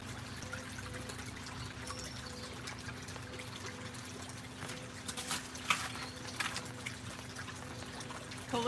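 Water runs steadily over a dream mat while mountain material dug from Missouri's St. Francis Mountains is cleaned, a continuous close trickle and splash with occasional louder sloshes.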